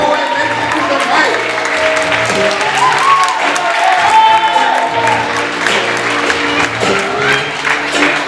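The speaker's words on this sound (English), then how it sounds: "Keep the applause going until the poet makes it to the mic" A high-school poetry slam audience applauds steadily as a poet walks up to the microphone, a dense wash of clapping that holds for several seconds with some crowd noise and voices mixed in.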